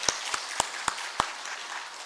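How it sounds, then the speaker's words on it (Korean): A church congregation gives a few scattered, crisp hand claps in quick succession, fairly faint and loosely timed rather than a full round of applause. "박수 다시 한번 박수 하세요."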